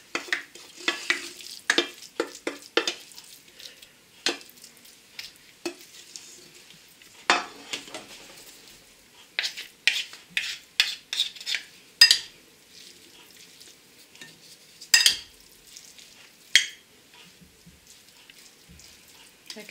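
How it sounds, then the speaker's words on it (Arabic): A homemade tabbouleh mixture is stirred and tossed in a bowl, giving irregular close scraping clicks and wet rustles in scattered bursts with short pauses. "هكذا ونبقى نخلط مزيان"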